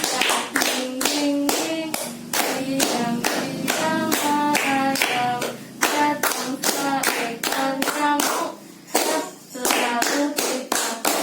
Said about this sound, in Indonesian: ayo semuanya pada tepuk-tepuk ya